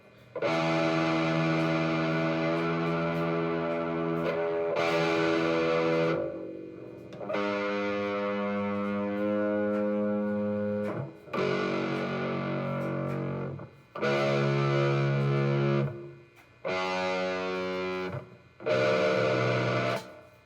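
Heavily distorted electric guitar with a Floyd Rose tremolo rings out chords in long, loud sustained bursts, separated by brief gaps.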